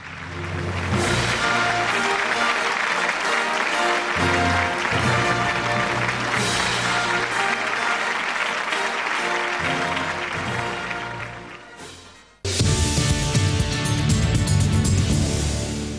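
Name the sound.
audience applause at award ceremony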